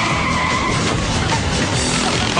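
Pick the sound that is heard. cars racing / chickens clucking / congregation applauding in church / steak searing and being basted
cars racing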